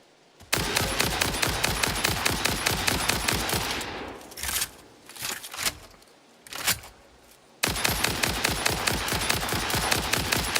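Rapid rifle gunfire from the video game Satisfactory, loud sustained bursts of fast shots that break into scattered single shots midway before the steady automatic fire resumes.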